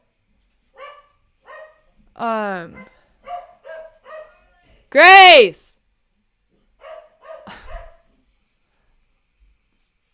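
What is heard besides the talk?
dogs barking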